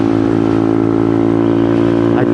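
A Honda Monkey motorcycle with a loud Yoshimura racing exhaust drones at a steady, unchanging pitch, close and loud throughout while cruising, with no pauses or revving.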